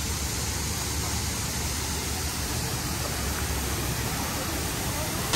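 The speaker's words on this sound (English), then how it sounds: "Waterfall here." A waterfall at Longshan Temple in Taiwan, a loud, continuous broadband rush of falling water that stays steady and even and fills the whole scene.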